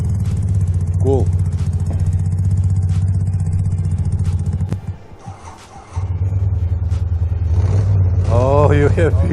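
Motorcycles rev and pull away together, a steady loud engine drone that dips briefly and then swells again with rising revs, while people talk over it.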